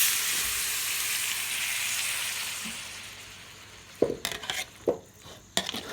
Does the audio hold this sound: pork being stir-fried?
yes